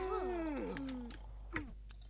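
A kitten meows in The Sims 3, its thin, wavering cries rising and falling over the first second, then a brief squeak later, quiet and close.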